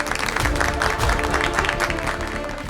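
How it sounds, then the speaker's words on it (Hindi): Audience applause at an organized event, clapping densely and steadily with a musical tone underneath, then easing slightly toward the end. "इनके लिए जोरदार तालियां।"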